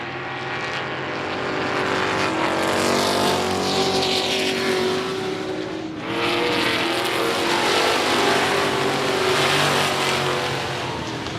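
Race cars roar around the I-37 Speedway oval, a dense, loud engine drone swelling and fading as several cars pass close, with no talk over it.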